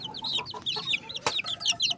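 Pet chicks peep in quick, high, closely spaced chirps, several overlapping at near range with a few sharper clicks among them.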